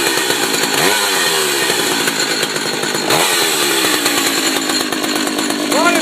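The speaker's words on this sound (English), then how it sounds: "Chainsaw, I think." A chainsaw bought new in 1981 runs loudly and steadily throughout, its high buzzing engine note holding near full throttle with a couple of brief dips and surges in pitch.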